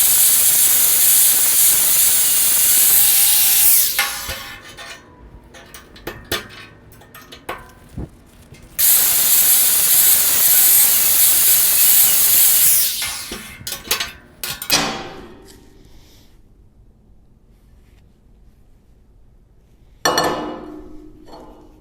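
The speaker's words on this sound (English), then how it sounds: "I'm just using a grinder, and all I'm going to be doing is basically just grinding it out until it fits perfectly around my 2 3/8." An angle grinder cuts into a steel pipe for a skate rail so it fits around a 2 3/8 pipe. It sounds as loud, harsh whining bursts of several seconds each, separated by quieter gaps with small metallic clatter.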